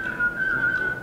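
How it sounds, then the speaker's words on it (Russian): A person whistles one sustained, clear, high-pitched note that wavers slightly in loudness, close and alone. "Здесь не свистят"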